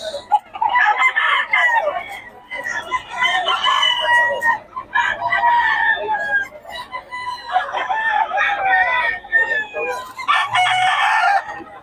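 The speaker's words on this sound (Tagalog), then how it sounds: "Solid ang mga tayo ngayon ng mga manok ni Boss Rod." Several roosters crow over one another, loud and close, with clucking between calls and faint voices in the background.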